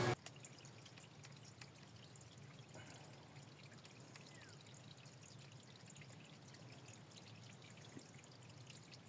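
Water pours and trickles steadily from a barrel after its hose is removed, a faint continuous splashing stream with a few scattered drips, no voices.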